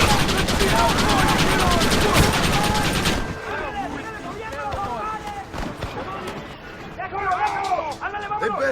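Rapid, dense gunfire from a Western shootout in Red Dead Redemption crackles loud and continuous for about three seconds, then gives way to quieter scattered shots and chirpy game sounds.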